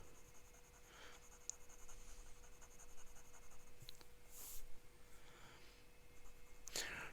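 A fountain pen with a stub nib scratches across paper in faint, close strokes, with soft intermittent scraping and a couple of brief brighter scratches over a quiet background hum, no talking.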